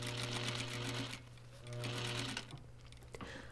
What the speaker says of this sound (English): Now I'm sewing the skirt waist to the waist of the bodice.